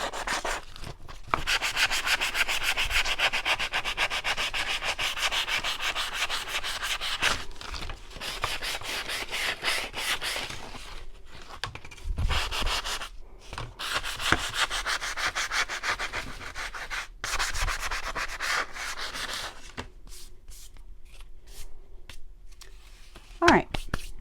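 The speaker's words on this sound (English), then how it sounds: "You can also use sanding blocks like this if you want." Painted wood is hand-sanded with a sanding block in steady back-and-forth rubbing strokes, close and fairly quiet, with brief pauses between passes.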